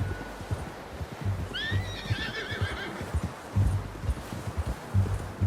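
A horse in the video game Red Dead Redemption 2 whinnies once with a shrill, wavering cry, while hooves clop steadily on the ground before and after.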